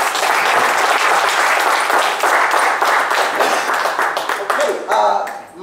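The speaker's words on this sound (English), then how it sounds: "Can we clap it up for the panel, please?" Audience applause for a panel at a conference event, loud sustained clapping from a crowd that thins out and fades toward the end.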